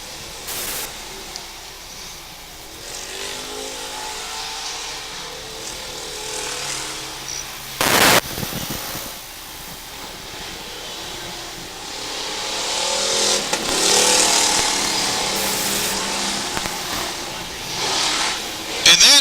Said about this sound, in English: Into 3 for the final time, off at turn number 4. Here comes your feature winner, Adam Armstrong.